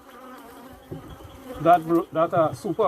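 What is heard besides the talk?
honeybees buzzing at a beehive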